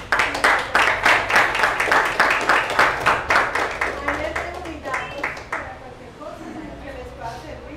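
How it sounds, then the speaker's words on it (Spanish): A small audience claps for Mónica with quick, rhythmic claps that start strong and fade after a few seconds, as a voice talks over the tail end. "Un aplauso para Mónica."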